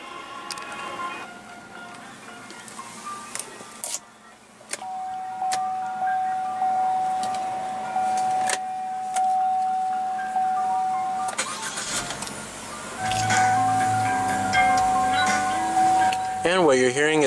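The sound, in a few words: 2015 Chevrolet Trax 1.4 liter 4-cylinder turbo engine idling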